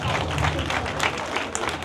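Audience clapping in applause for an older blood donor at a world blood donor day ceremony, a brief steady patter of many hands, fairly close.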